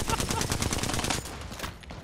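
Rapid bursts of gunfire from an Apex Legends match crackle loudly in quick succession, dense and close, then thin out toward the end with some background game noise.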